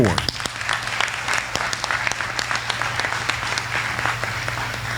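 Sustained applause from a dinner crowd at a service awards event, a dense patter of many hands clapping steadily for the whole stretch with sharp individual claps standing out.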